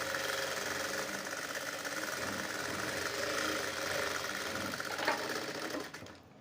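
A sewing machine runs steadily while stitching a work blouse along its lining, a dense continuous mechanical whir with rapid needle rhythm, close and loud, easing off at the very end.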